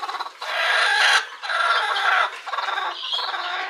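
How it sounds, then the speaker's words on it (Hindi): Aseel hens cluck close by in a farm setting, giving a few bursts of loud, raspy clucking with brief pauses between calls. "ये अंडा दे रही है, ये असील है, असील मुर्गियाँ हैं।"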